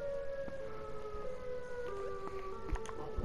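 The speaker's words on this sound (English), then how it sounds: "Siren." A sustained wailing siren in a Rec Room horror game, with steady tonal lines that slowly bend in pitch, moderately loud and continuous with no talking over it.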